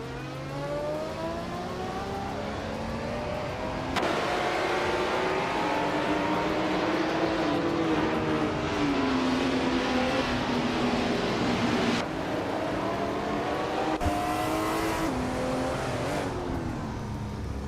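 Race car engines roar continuously in a racing video game, several cars revving and shifting with rising and falling pitch, occasional tire squeal, loud and close with no talk.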